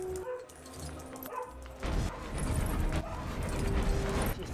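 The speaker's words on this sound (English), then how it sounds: "Just ignore the dog in the background." Dog barking in the background of a Lego Harry Potter Years 5-7 game session, a few scattered barks and yips mixed with game sounds, growing busier and louder in the second half.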